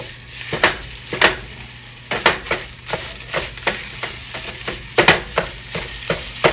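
Regular pork sausage fries and browns in a pan under a constant sizzle, broken by repeated loud scraping knocks as it is mashed and stirred with a utensil.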